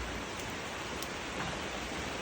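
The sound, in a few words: rain falling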